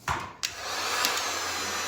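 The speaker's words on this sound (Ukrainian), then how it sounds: "Я знімаю це діло з допомогою фена" A couple of clicks, then a two-setting hot-air gun, used to strip many layers of paint from wood, blows with a steady, loud, breathy roar that continues unbroken.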